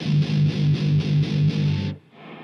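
Ibanez Xtreme Tone Blaster amp on its distortion channel in extreme tone blasting mode plays heavy chugging palm-muted guitar riffs, about seven even rhythmic bursts that cut off abruptly into quiet hiss.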